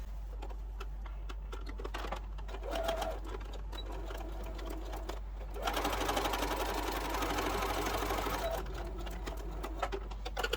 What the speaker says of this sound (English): head over to the sewing machine, and we're just going to stitch on that line